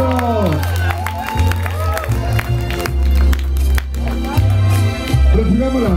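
A party crowd applauds and cheers to welcome a guest, with clapping and whoops under loud music. A host's voice talks over the noise.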